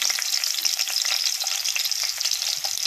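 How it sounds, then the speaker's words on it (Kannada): Onions fry in oil in a pan for an egg curry, giving a steady, dense sizzle with occasional stirring scrapes, close and continuous with no talk. "ಸ್ವಲ್ಪ ಫ್ರೈ ಆಗಬೇಕು ಈರುಳ್ಳಿ."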